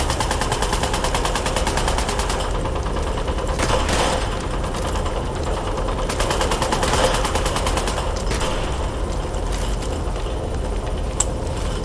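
Rapid automatic gunfire from a Fallout 76 Battle Royale match crackles continuously and loudly, dense bursts of shots running almost the whole time with brief heavier volleys and no pause.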